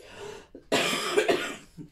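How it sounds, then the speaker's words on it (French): A single harsh, close cough after a short breath, loud and raspy, trailing off into a quiet exhale. "il faut que je tousse une fois de plus"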